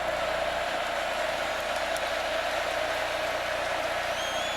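Steady, dense stadium crowd noise roars at a college football game between the Miami Hurricanes and Texas A&M Aggies, a constant broad wash of many voices holding level throughout with no breaks.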